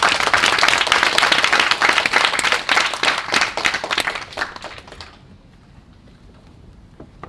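Delegates at a youth model UN council session burst into dense applause that fills the room for about five seconds, then break off abruptly, leaving a quiet hall with a few scattered claps.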